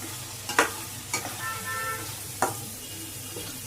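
Beans, carrots and cauliflower frying together in a pan for fried rice give a soft continuous sizzle, punctuated by three or four sharp knocks of a spatula stirring the vegetables, alone with no talking.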